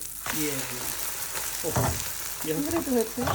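Chicken pieces fry in a pan with a steady, close sizzle that runs throughout, partly under a speaking voice.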